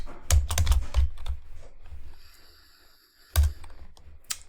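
Typing on a computer keyboard, close and crisp: a quick burst of key clacks, a pause, then a few more sharp taps, with no talking.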